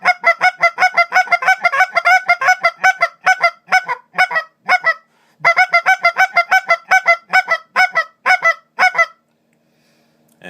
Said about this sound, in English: Then you can progressively speed it up faster to make a double cluck.